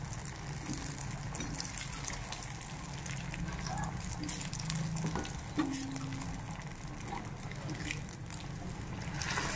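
Pitha rice cakes fry slowly in hot oil with a steady, continuous sizzle and faint bubbling throughout.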